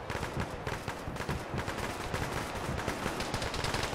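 An automatic rifleman in Arma with the ShackTac group fires sustained bursts, rapid loud cracks rolling in dense repeated volleys, close and continuous.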